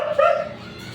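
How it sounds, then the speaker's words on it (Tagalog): One close dog bark or yip, a short tonal call that fades quickly into quiet room noise. "Ang ingay ng aso ko."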